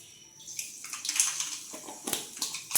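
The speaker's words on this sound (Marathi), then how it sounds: "तर तेल तापलेलं आहे. आता याच्यामध्ये आपल्याला सोडायची मोहरी." Mustard seeds dropped into heated oil crackle and sizzle in a close, bright hiss with scattered sharp pops, rising in intensity toward the end.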